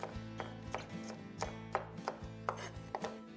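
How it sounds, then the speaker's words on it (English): Garlic is chopped with a knife on a cutting board, about ten crisp, quiet knocks in an uneven, steady rhythm, close up and alone with no talking. "Chop up the garlic."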